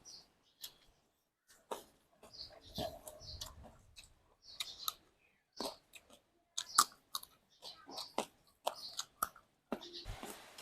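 Close, wet chewing and smacking of food, irregular clicks and mouth sounds coming in short bursts separated by quiet gaps.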